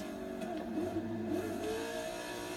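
An American muscle car engine in Forza Horizon 3 revs steadily, a loud, continuous mid-pitched roar that rises and falls slightly throughout, with no voices.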